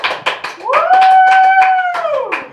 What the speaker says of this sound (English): you guys have to clap like real loud